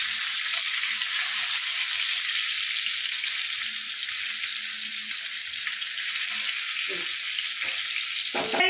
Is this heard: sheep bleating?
no